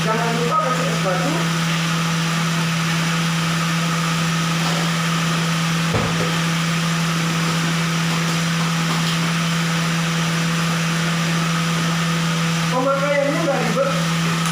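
A Powermix blender mixes creamer with ice cubes, giving a steady, even motor hum that runs unbroken for the whole stretch, with a voice briefly heard near the start and again at the end.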